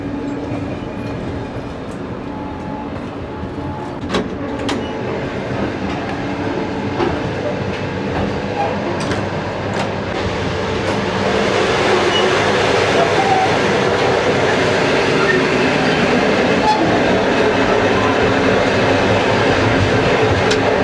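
Inside a Trans-Siberian Railway carriage, the train rolls along with a steady, loud rumble of wheels on the rails, scattered clicks and knocks, the noise swelling and brightening partway through.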